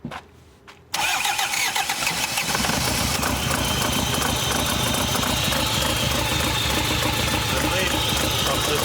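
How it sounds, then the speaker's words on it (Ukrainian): A Hyundai Santa Fe diesel engine, misfiring on one cylinder, cranks and catches after a brief quiet moment, then runs loudly and steadily with a rough, uneven chugging throughout. "Зараз запускаємо двигун."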